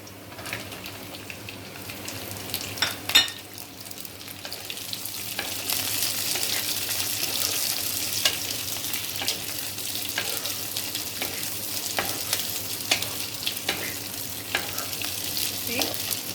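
Onion frying in a pan for chilli paneer, the sizzle swelling after a few seconds and holding steady, with intermittent clicks and scrapes of stirring, no speech.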